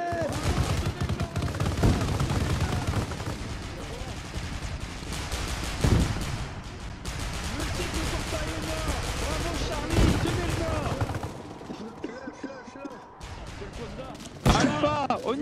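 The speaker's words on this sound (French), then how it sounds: "Ça nous tire dessus." Heavy gunfire in a Warhammer 40K battle game, rapid machine-gun bursts and explosive shots hammering almost continuously with sharp louder blasts, a brief lull near the end before another crack, and voices talking beneath the combat.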